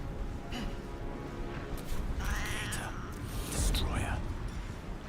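A cat meows twice in Baldur's Gate 3, short rising-falling calls set against game ambience and soft background noise.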